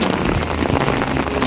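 Sudden steady rain pours down during a morning walk at Aldrich Bay, a dense hiss of drops drumming on surfaces, close and constant.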